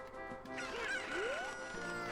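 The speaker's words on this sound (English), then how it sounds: "Here go the super Cuckoos." Super Cuckoo chickens in The Legend of Zelda: Ocarina of Time give off game-style clucks and rising squawks. The calls are moderately loud and layered over steady background music, with no talking.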